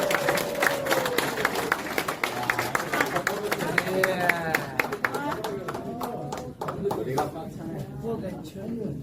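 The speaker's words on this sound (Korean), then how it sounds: "뜨거운 그 박수로 알려주시오" A crowd at an outdoor party rally claps warmly and rhythmically as a general and soldiers enter, while an announcer keeps talking over the dense, sustained clapping.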